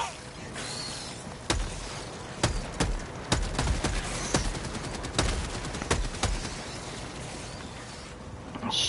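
Sharp, heavy cannon blasts from a video game fire in an irregular series, each a loud boom over a noisy background of game sounds.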